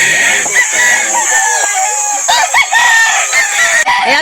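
Chickens and roosters at a poultry market in Calauan, Laguna, cluck and crow loudly and close by, with several overlapping calls throughout.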